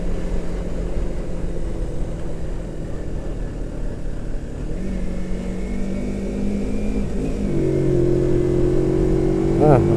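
Vehicle engine rising in pitch as it accelerates along a road while returning home to Kuningan, West Java, a steady drone under a continuous low rumble and wind.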